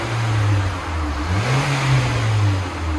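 A 2017 Nissan Juke Nismo turbo on its stock exhaust revs up and settles back, a loud, close engine note rising and falling once in a short burst with no talk over it.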